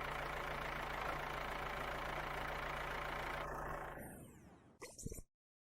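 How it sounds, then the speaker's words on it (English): A green tractor's engine idles loudly with a low hum, then cuts off near the end, followed by a couple of brief clunks before silence. "There is a green tractor."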